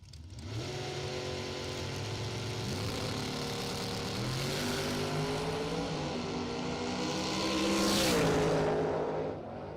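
A Corvette Roadster drag racing at the West Texas Halloween Shootout roars hard down the track, its engine revs climbing in repeated gear pulls and swelling loudest near the end before fading.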